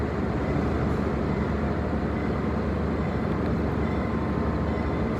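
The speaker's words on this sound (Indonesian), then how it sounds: "Nah, ini dia untuk kereta Motis Selatannya ini" KA Motis Selatan train at Pasar Senen station in Jakarta, a steady low rumble of the train and station machinery filling the air continuously, loud and close with no pauses.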